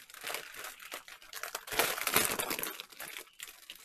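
A Christmas card crinkles and rustles as it is handled and opened, with a burst of dense crackling paper noise in the middle, close and without speech.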